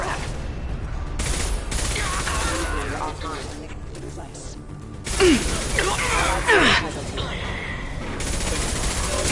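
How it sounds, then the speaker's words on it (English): Heavy gunfire rattles through a firefight in the video game Mass Effect 2, sustained bursts with a few sharper impacts and breathy vocal grunts mixed in. "Taking heavy fire!"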